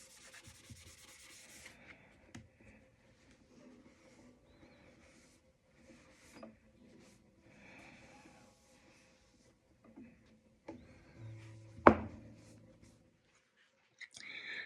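Fine-grit sandpaper rubs along an acoustic guitar neck to strip its gloss, making quiet, intermittent scratchy strokes separated by near-silence, with one louder scraping burst near the end.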